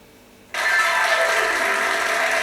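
After a brief quiet moment, a loud applause sound effect from an iPad 2 bursts in suddenly and continues as steady, dense clapping.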